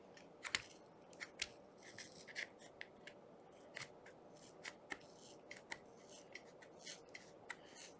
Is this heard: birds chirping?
no